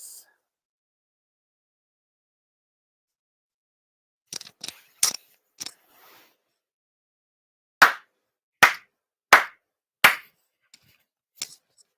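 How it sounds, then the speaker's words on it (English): Four sincere hand claps at a Shinto shrine ceremony, sharp and evenly spaced after a few softer taps and a long quiet, ringing briefly in a hushed room. "Chido haire 4 sincere claps."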